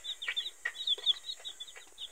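Hens give soft, rapid clucks and murmurs, with short chirpy calls scattered throughout, heard close and fairly quiet.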